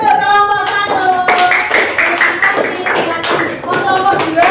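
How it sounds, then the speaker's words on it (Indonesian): Classroom clapping for a student group after a presentation, uneven bursts of hand claps mixed with children's voices and chatter throughout, fairly close and loud. "Tepuk tangan untuk kelompok 1."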